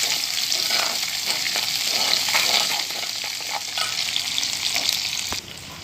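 Onions sizzle in hot oil in a pan while being stirred, a steady crackling fry punctuated by scraping and clinking strokes of the spoon, close and continuous.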